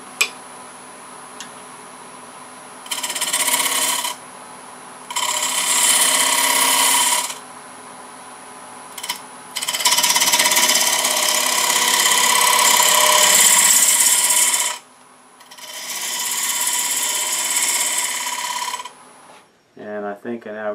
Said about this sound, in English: I'm going to get this very blunt grind bowl gouge.